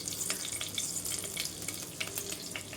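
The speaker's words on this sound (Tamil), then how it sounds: "நல்லா கொஞ்சம் எண்ணெய் காஞ்சோடனே கொஞ்சம் சோம்பு, தாளிப்புக்கு கொஞ்சம் சோம்பு" Fennel seeds tempering in hot oil make a busy, crackling sizzle with scattered small pops, close and fairly loud for almost three seconds.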